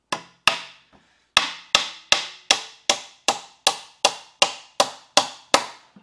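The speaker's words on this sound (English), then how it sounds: "we're going to take these bigger 3 1/4 inch nails again and drive them down into the top of the 4x4" Large 3 1/4 inch nails are driven into the top of a wooden 4x4 on a homemade bench with sharp, loud hammer strikes. Two blows and a light tap come first, then about eleven evenly spaced strikes, each ringing briefly.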